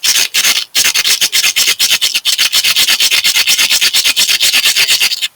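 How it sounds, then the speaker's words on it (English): Two different types of rock, a harder one against a softer, lighter one, rubbed together in steady rapid strokes, a loud continuous scraping rasp with brief pauses and no talking. "If I rub two different types of rocks together"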